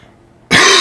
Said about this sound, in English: You always start off with a good, hearty cough